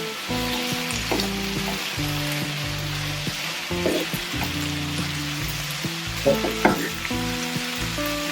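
Caponata of vegetables sizzling and frying in a pan while being stirred, with a continuous close hiss punctuated by scraping and clattering spoon strokes against the pan, and a faint melodic tune underneath.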